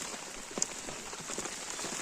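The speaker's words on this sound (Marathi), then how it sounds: "बघूया पाऊस थांबतोय" Steady rain falls outdoors during the first monsoon rain in the Konkan region while crabs are being gathered. It makes a continuous, close patter and hiss of drops on surfaces for the whole stretch, with no talking.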